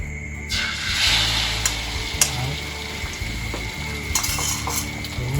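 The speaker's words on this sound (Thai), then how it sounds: "ใช้เส้นมาม่ากับไข่ที่เราคนไว้แล้วก็ใส่ลงไปแล้ว" Mama instant noodles and beaten egg frying in oil in a pan, a steady close sizzle with scattered scrapes and clinks of utensil against the pan throughout.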